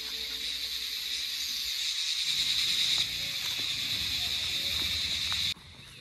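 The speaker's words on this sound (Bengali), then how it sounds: "চারিদিকে জঙ্গল আর ঝিঝি পোকার ডাক" Crickets in a pine forest near Dow Hill, Kurseong, keep up a steady, shrill, continuous drone at a moderate level, unbroken from start to end over a faint low background rumble.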